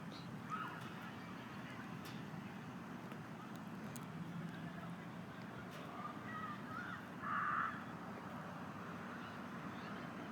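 A bird caws loudly outdoors, a crow-like cry rising briefly over steady traffic and street rumble, with a couple of fainter calls earlier.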